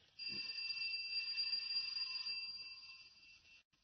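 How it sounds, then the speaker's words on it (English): An electric doorbell rings continuously for about three seconds, a steady metallic buzz-ring, then cuts off abruptly. "I'll try the bell."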